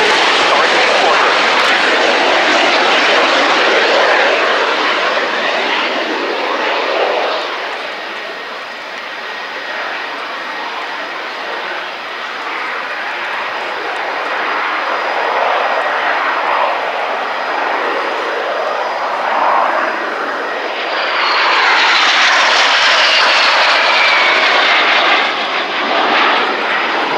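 A de Havilland Vampire jet from the historic squadron flies past at the Fairford RIAT airshow, a loud continuous roar that swells and shifts in pitch over a long pass.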